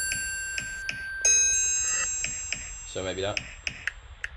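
Short, crisp percussion hits from a sample in Logic Pro X repeat in a steady pulse beneath a sustained synth tone, with someone briefly talking over the loop partway through.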